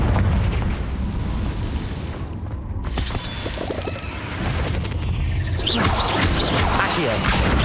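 Repeated Confringo blasting-spell explosions in the Hogwarts Legacy video game on PC, with dense booming bursts over a continuous roar of game effects that swell louder near the end. A voice speaks briefly.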